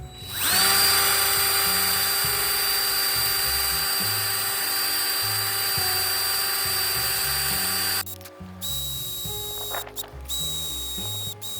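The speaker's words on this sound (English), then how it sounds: "I'm just going to use the drill with the, you know, little metal thing here to get that off" A high-pitched power drill fitted with a small metal attachment whines loudly and continuously, then its pitch wavers and drops as it bites into a surface to scrape off a sticker.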